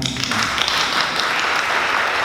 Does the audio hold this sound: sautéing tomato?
no